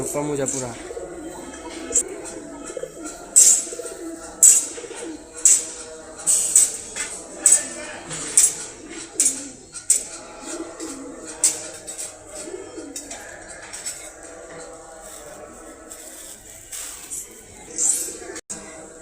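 A pair of Orange Chila pigeons coo in a series of throaty, rhythmic bursts, repeating roughly every second, with faint chirps and background rustling.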